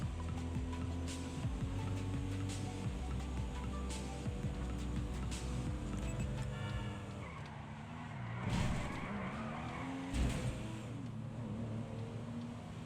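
A car in GTA Online drives and skids, its engine droning steadily throughout while tire screeches burst out loud near the middle and again just after, with no talking.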